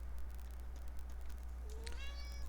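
A domestic cat lets out a single rising, drawn-out meow near the end, fairly close, over a steady low indoor hum with no one talking.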